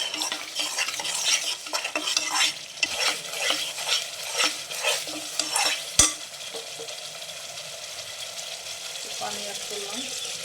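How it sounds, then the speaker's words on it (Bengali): Spices are stirred and fried with bay leaves in a pan, with continuous scraping strokes and a soft sizzle. A sharp clatter comes midway, and the stirring quiets afterward. "মশলাটা ভালোভাবে কষিয়ে নেব। তো কিছু তেজপাতা অ্যাড করে নিলাম।"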